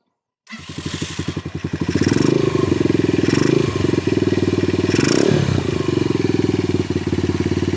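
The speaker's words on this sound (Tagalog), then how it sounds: "So pandaran natin yung motor." A motorcycle with a faulty charging system starts up close by and settles into a loud, steady running rhythm, with a few slight revs along the way.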